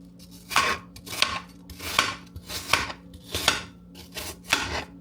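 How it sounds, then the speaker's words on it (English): Six or seven sharp, evenly spaced stamping and cutting thuds of a bat-shaped cookie cutter pressing through pie crust dough on a hard kitchen surface, close and crisp with quiet gaps between, no talking. "I'm going to stamp out some bats and lay them on top."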